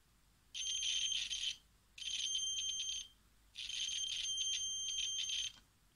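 Continuity buzzer of a Neoteck XL830L digital multimeter sounds three times as shrill electronic beeps, the first and last about a second long and the middle one shorter, clear and fairly close with quiet gaps between, no talking.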